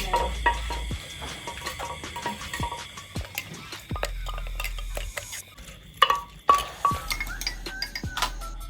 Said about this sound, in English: put a chopped papaya on the mortar and mix it well